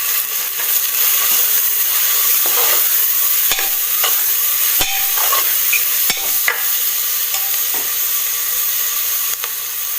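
Chicken pulimunchi with spices is stirred in a frying pan, with a loud continuous sizzle and hiss broken by scattered scraping knocks of the spoon.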